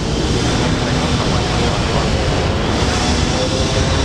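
An Airbus A321 airliner takes off from runway 19 right at Brisbane Airport with a loud, continuous broadband engine roar that holds steady throughout.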